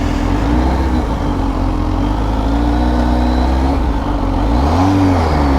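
Kawasaki Z H2 motorcycle engine on a ride, a loud steady drone with pitch rising and falling as the throttle changes, heavy wind rumble underneath and no talking.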